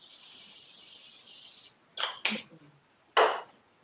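Cooking spray aerosol misted onto a cookie sheet, a long steady hiss followed by three shorter spurts, close and fairly quiet.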